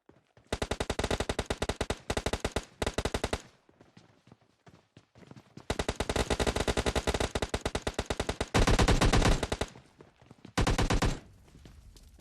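Rapid automatic gunfire from PUBG Mobile rattles in several long bursts with brief pauses between, loud and dense, including one harsher, heavier stretch, with no voices over it.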